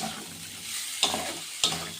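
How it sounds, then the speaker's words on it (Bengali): Spices stirred into vetki fish bones frying in a pan, a steady sizzle throughout with two sharp scraping strokes of the spoon against the pan. "মশলাটা আমি এর মধ্যে মিশিয়ে দিলাম"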